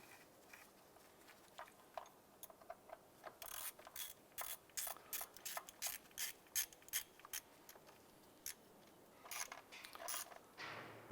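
A ratchet clicks in quick, uneven bursts while a bolt is tightened on a 2011-2019 Ford Fiesta intake manifold, faint and close in a quiet space, with short pauses between strokes.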